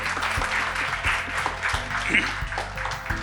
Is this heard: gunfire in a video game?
no